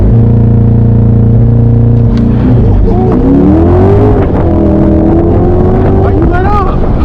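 2021 Corvette C8 Z51 held on the power brake, its engine droning loud and steady up close before rising into a revving launch, with voices talking over it inside the cabin.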